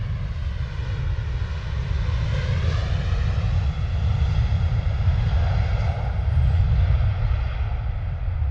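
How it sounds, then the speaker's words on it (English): A Ryanair airliner takes off at London Stansted Airport, its engines giving a steady, loud, broadband roar that holds for the full span with a low rumble underneath and no voices. "Lovely rotation by the Ryanair as it goes behind the hedgerow there"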